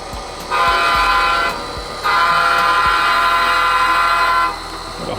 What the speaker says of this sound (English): Got a honk for the weirdos.